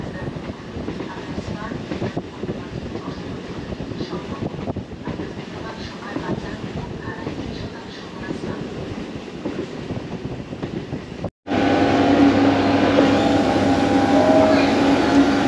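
A passenger train runs on the Sheoraphuli–Tarakeswar line. Heard from on board, it gives a continuous rumbling clatter, then after an abrupt cut a louder, steadier rolling hum carries a faint tonal whine.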